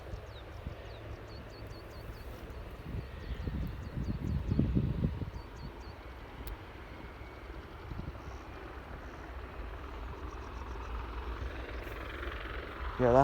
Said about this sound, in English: that helicopter is all of a sudden getting louder